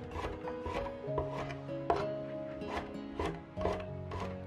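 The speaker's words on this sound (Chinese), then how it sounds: "再切点蒜片" A kitchen knife slices garlic cloves on a cutting board, a steady series of crisp close taps about two per second, each with a faint scrape, with no talking over it.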